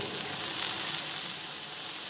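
Sizzling and crackling of oil frying in a pan while preparing chicken cheese spaghetti, a steady, dense hiss that holds at an even level throughout with no talking.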